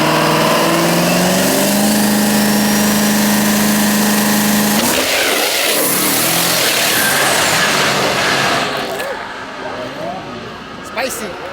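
A diesel drag-racing truck of about 2,500 wheel horsepower roars loudly nearby, a steady droning engine that surges into a harsh, rising rev and then fades as it pulls away.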